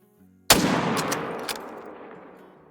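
A single sharp rifle shot at a buck in the hunting game Call of the Wild cracks suddenly after near silence, then rolls away in a long fading echo lasting over two seconds.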